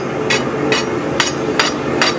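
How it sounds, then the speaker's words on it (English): A rasp filing sharp corners off steel in a blacksmith's shop, five short, crisp strokes in an even rhythm over a steady background hum, close and loud, with no talking. "I'm gonna rasp off these little sharp corners here"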